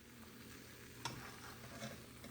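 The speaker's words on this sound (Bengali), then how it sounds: "তো আমি একটা পরোটাই ভাজতেছি, দুইটা হলে বেশি হয়ে যাবে।" A single paratha fries in a pan with a faint, steady sizzle. One small click sounds midway, and no one speaks.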